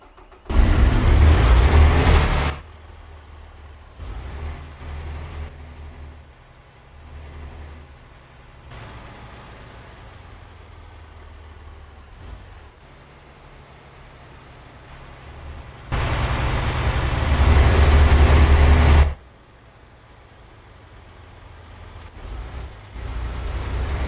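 Peterbilt 389 truck engine in American Truck Simulator, a steady low diesel rumble running alone for most of the stretch, with two louder, fuller bursts near the start and again later, close and prominent.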